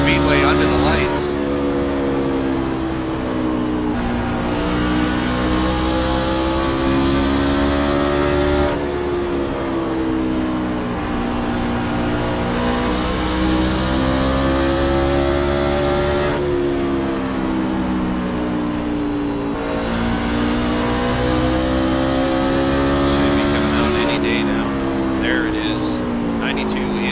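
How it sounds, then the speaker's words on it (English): Race car engines in a league race at Bristol Motor Speedway, a racing video game under the lights, drone steadily and loudly throughout with harmonic whine rising and falling as cars pass, under continuous commentary talk. "Norgar TV League race at Bristol Motor Speedway under the lights."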